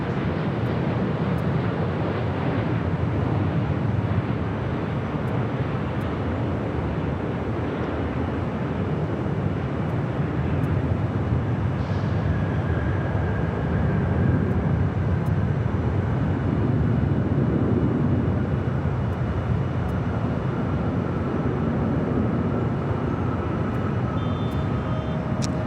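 A passenger aircraft lands on runway 24 right at LAX, heard as a loud, continuous jet roar with wind rumble that holds steady throughout.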